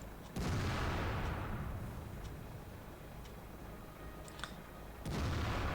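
Heavy tank gun shots in World of Tanks, a Waffentrager auf E100 firing on a Fjords map: one loud boom near the start with a long rumbling decay, then a second blast near the end.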